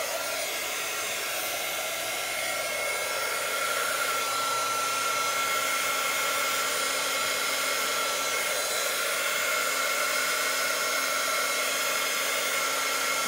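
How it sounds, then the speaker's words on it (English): A heat gun blowing over wet watercolor paint: a loud, continuous, steady whirring roar with airy hiss, unbroken for the whole stretch and with no talking. "when I take the heat gun and dry it, I can run those colors into streaks"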